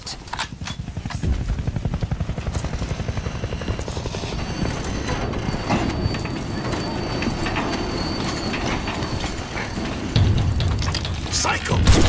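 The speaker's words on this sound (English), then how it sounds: "This train is full of highly explosive material." A heavy train in Crysis 3 gives off a dense, steady mechanical rumble with metallic clatter and rattling, loud and close throughout, swelling near the end.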